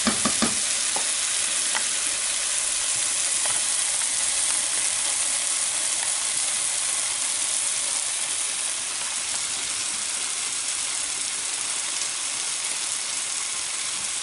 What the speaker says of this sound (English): And that sizzle.